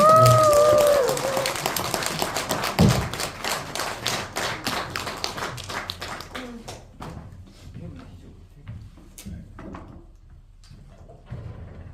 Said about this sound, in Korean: 고수와 명창 두 분께 여러분 뜨거운 박수 부탁드립니다